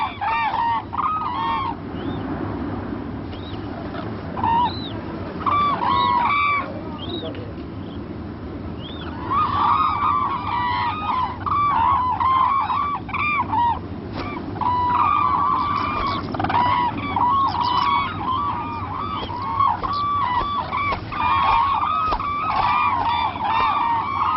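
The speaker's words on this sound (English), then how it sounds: "the cranes circle the monastery 3 times in a clockwise direction, announcing their arrival and devotion to this place." Cranes call repeatedly as they circle a monastery in Bhutan, their honking, bugling cries overlapping in a steady chorus over soft background noise, with no talking.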